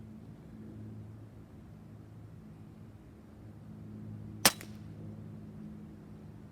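A single sharp air rifle shot from a Benjamin Marauder with a Walther barrel, fired at a target outdoors, over quiet wind and rumble, with no talking.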